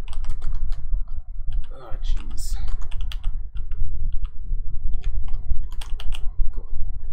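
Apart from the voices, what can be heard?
typing on a computer keyboard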